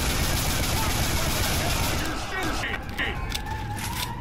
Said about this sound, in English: I was shooting the witch